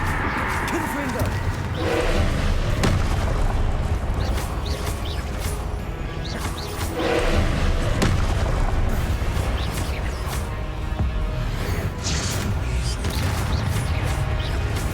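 Confringo fire-blast spell explosions in the Hogwarts Legacy video game, several loud booming bursts and crashes in a busy battle mix with whooshes and a voice talking throughout.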